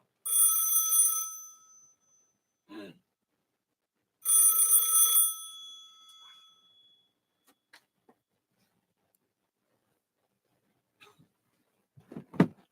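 Landline telephone bell ringing in two loud bursts of about a second and a half each, separated by a quiet pause with a small knock, followed by faint scattered handling sounds and a brief burst of voice at the end.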